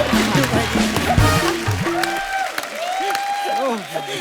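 Studio audience applause on a comedy talk show, loud clapping mixed with voices and music that rises and fades over a few seconds.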